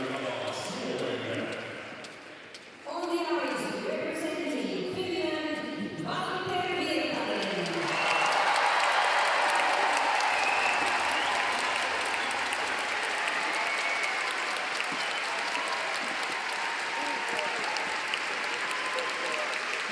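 A crowd in a figure skating arena at the 2023 European championships in Espoo applauds. A commentator talks over the first seven seconds, then the clapping swells loud and sustained, with cheers mixed in.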